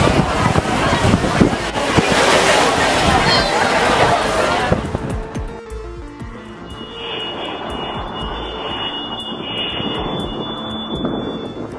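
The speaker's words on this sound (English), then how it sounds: "The 747, blasting off from St. Martin's Maho Beach, left beachgoers stunned, the raw power of its engines shaking the air and the ground beneath them." A Boeing 747 taking off at Maho Beach, St. Martin, its jet engines producing a loud, rumbling roar buffeted by wind for the first several seconds, then fading to a thinner, distant whine with a high tonal hiss.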